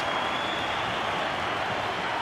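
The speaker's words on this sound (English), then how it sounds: "Generous applause" A cricket crowd gives steady, generous applause as a batsman reaches fifty in a Pakistan versus Australia one-day final, a broad, even wash of clapping from a distant stadium audience.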